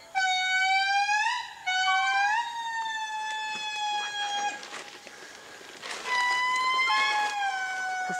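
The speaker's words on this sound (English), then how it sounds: "That is the call of the Indri." An indri lemur calls in the forest with loud, wailing, siren-like howls that rise and fall in long sliding notes, repeated in several phrases with brief gaps between them.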